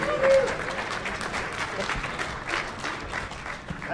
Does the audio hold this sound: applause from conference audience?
yes